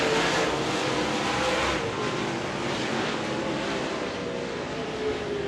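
Modified race cars lapping the Devils Bowl Speedway dirt track in a Texas Outlaw Modified Series race, a loud continuous engine roar that swells and fades slightly as the cars pass.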